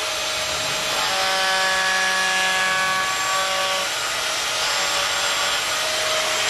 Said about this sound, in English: So I'm going to do a chisel with it.